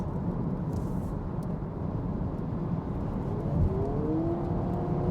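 A new Honda Prelude hybrid driving on a race circuit, its engine and road roar a steady, dense drone heard from inside the car, swelling slightly near the end with no talk.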